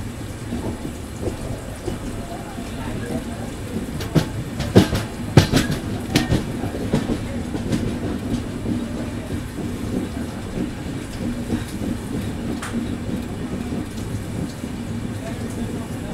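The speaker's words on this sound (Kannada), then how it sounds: "Tirupati Adilabad train crossing" Tirupati–Adilabad train passing on the neighbouring crossing track, a steady loud rumble of wheels and cars rolling by close up for the whole span, with a few sharper clanks partway through.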